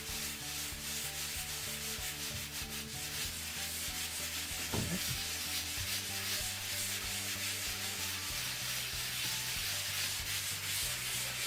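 A hand rubs and smooths the third coat of a concrete countertop in circles, giving a steady, soft, close scraping swish with faint grainy texture and no talk.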